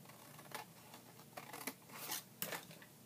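Scissors snip through the side of a paper gift box in a handful of short, crisp cuts at an uneven pace, close and faint in a quiet room.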